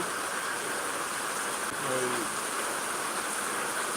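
Rain falls steadily outdoors as a dense, even hiss that stays at a constant level. A faint voice briefly sounds underneath it.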